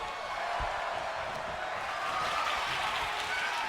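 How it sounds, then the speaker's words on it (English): Arena crowd noise in a WWE 2K25 wrestling game at the O2, a steady wash of cheering and applause, fairly distant and sustained throughout. "Listen to the O2 crowd."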